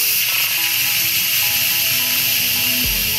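An Instant Pot electric pressure cooker being quick-released from sealing to venting, with a loud, steady, continuous hiss of steam rushing out close by and a faint lower tone shifting underneath.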